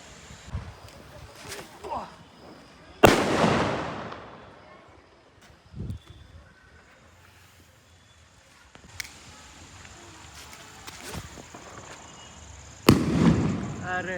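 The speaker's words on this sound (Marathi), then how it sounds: "बॉम्ब वरी फुटालाय पण आम्हाला खाली झटका लागालाय." Sutli bomb firecrackers, including a petrol sutli bomb, bursting outdoors during Diwali: a few sharp loud booms spaced seconds apart with reverberant tails and smaller pops between, while people talk.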